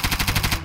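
Rapid automatic gunfire in a video game, about eight evenly spaced loud shots in quick succession, then stopping abruptly.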